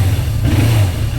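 A 1982 Suzuki GS750E motorcycle engine runs on a test ride, a loud, steady low-pitched engine drone close by over a short stretch.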